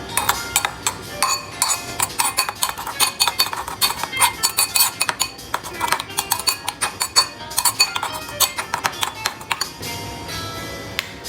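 Kimchi ingredients are mixed in a bowl with a utensil, giving a steady run of close, bright clinks and scrapes in an uneven rhythm.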